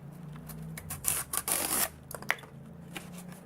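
Straight razor slicing through a piece of cardboard, a few short scraping, rasping bursts in the middle of the clip over a low background hum, close and fairly crisp, with no speech.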